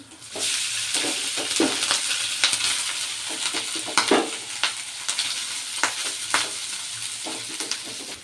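Rice for jeera rice stirred into a pan over a low flame, a steady hiss of gentle frying with repeated scraping strokes of a spoon across the pan, close and fairly loud, no voices.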